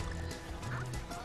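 Squawks the parrot in the game Donkey Kong Country: Tropical Freeze gives a run of honking, quacking squawks, moderately loud over a steady wash of game background sound.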